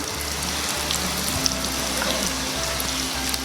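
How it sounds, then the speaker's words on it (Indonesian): Minced garlic going into a pan of hot oil over lowered heat while cooking fettuccine with tempoyak and tuna sauce, giving a steady close hiss and sizzle under a low hum, with no talking. "kemudian masukkan bawang putih yang sudah dicincang"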